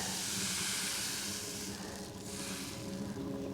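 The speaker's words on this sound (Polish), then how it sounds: "leję teraz drugą porcję ciasta. Patelnia już jest bardzo rozgrana" Crêpe batter sizzles loudly in a very hot pan, a steady hissing crackle that dips briefly then continues, no voices.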